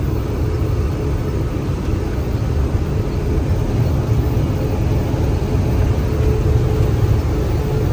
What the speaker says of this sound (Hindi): गाड़ी के टायरों में से आवाज आती है पई पई सो सो कर रही है भाई साहब पूरी गाड़ी